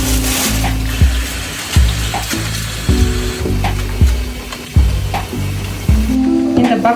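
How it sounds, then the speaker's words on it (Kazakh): Eggplant pieces fry in oil until their crust turns golden, giving a continuous sizzle with recurring bubbling bursts and pops at a close, steady level, with no talking. "Баклажанның нелері, корочкалары сарғайғанша осылайынан қуырып аламыз."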